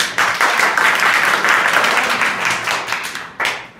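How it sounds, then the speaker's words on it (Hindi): Students in a skill-development class clap for a classmate, brisk close applause that fades near the end before one last quick burst of claps. "इनके लिए जोरदार ताली बजाओ।"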